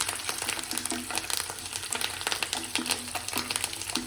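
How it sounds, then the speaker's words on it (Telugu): Spices frying in oil in a pan as turmeric is added while tempering for gongura pulihora, a steady soft sizzle with faint crackles and occasional stirring clinks. "ఇప్పుడు దీంట్లో పసుపు వేసుకుందాం ఫైనల్గా"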